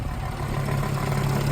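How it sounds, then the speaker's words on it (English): A salvage Audi A5 with a modified exhaust idles steadily, giving a constant low burble with a slight clatter, heard up close and alone. "Exhaust sounds pretty nice."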